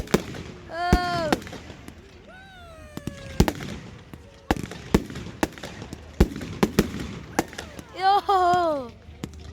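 A large outdoor fireworks display with thousands of people present: sharp explosive bangs and crackles burst irregularly throughout, some near and loud, while voices exclaim and shout between the blasts.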